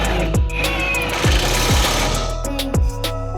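Repeated bursts of a rattling impact wrench or ratchet while bolting the control arm back onto a 1998 Honda Civic during a coilover install, several short runs over a steady background hum in a garage.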